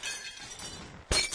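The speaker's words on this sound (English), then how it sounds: "Glass panel break" A glass panel shatters in the video game Happy Wheels: a quiet stretch of game background gives way to a sudden loud crash of breaking glass, with bright tinkling fragments trailing after.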